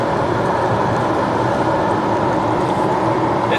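An '07 Acura RDX with a turbo engine under full throttle in fifth gear on an open road, heard as a loud, steady, broadband roar of engine and road noise that holds constant throughout, with no voices.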